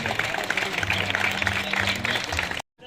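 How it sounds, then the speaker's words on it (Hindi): An audience applauds at a cricket tournament prize ceremony during the Burnpur Premier League grand finale, with dense, steady clapping for over two seconds before it cuts off abruptly. "ताली हो जाएगा मोलबिया के लिए।"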